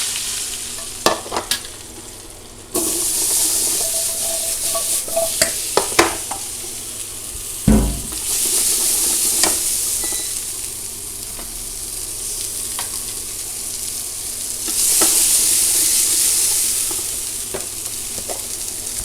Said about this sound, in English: And then we can start cooking, sauteing the vegetables.